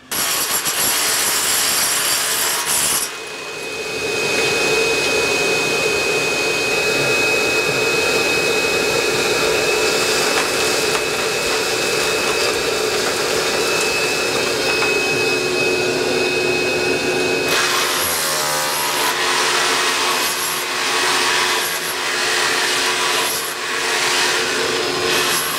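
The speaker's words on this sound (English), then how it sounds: "We can usually tell when it's time to do that just based on the friction of the drill bit itself." Core drill boring through a concrete floor for a home radon removal system, a loud continuous motor whine with grinding friction that pauses briefly and then resumes.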